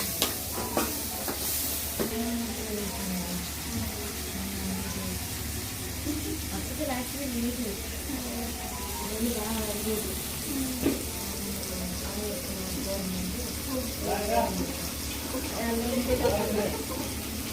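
Tomatoes dropped into hot oil in a home kitchen pan, with a steady soft sizzle and occasional stirring scrapes running throughout, while people talk over it intermittently.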